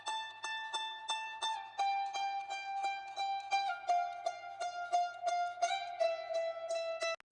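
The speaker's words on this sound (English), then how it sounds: "Next, I added this ukulele phrase right here." A chopped trap ukulele phrase from a sample kit plucks a steady run of bright, clean notes. It sits up close and carries at an even level for about seven seconds, with no voices.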